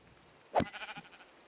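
A single Minecraft sheep bleats once, a short wavering cry that stands clear against near silence.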